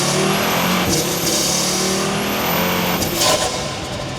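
A loud, close Audi RS3 engine with an aftermarket 4-inch inlet elbow revs hard while accelerating, with a gear shift partway through and a high whine overhead.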